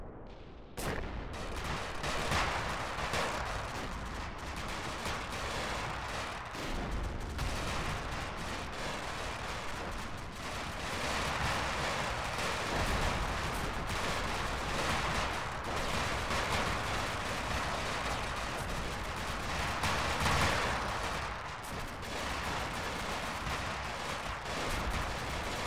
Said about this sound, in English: D-30s are firing.